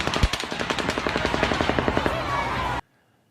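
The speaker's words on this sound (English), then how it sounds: "Here's the gunfire hitting the pavement, followed by the rifle reports from the distance." Rapid, evenly spaced gunfire cracks of rifle rounds hitting pavement, with distant rifle reports, in a steady burst for nearly three seconds, then an abrupt cut to near silence.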